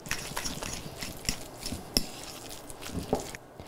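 Ravioli filling being mixed with an egg in a bowl: scattered scraping and clinking of a utensil against the bowl, fairly quiet and irregular, with no talking.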